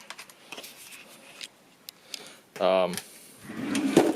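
A craft-room drawer holding craft paint and palettes slides open with a short, loud scraping rattle, preceded by faint ticks and small handling noises and followed by more rummaging.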